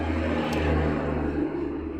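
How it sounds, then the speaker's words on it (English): Constant low rumble and whir of traffic on a busy highway, a steady wash of passing vehicles with no pauses, moderately loud and with no voices. "pardon the road noise"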